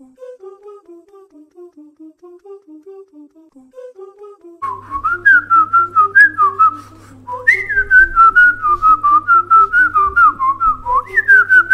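Someone whistles a rhythmic tune, soft at first, then louder and closer with a low hum underneath, the melody rising in pitch.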